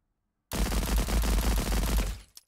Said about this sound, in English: I did have a concern with the sound of the gunshots in the game